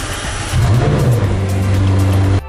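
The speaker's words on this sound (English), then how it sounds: "This is the McLaren Senna, named after famous F1 driver Ayrton Senna," A McLaren Senna supercar engine revs sharply, its note rising and dipping in a quick blip before settling into a loud, steady high drone that cuts off abruptly.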